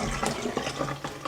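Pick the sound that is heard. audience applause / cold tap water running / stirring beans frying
cold tap water running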